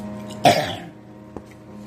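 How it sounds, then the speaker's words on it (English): A single sharp cough, close and fairly loud, followed by a brief quieter throat sound and then near silence. "Cough."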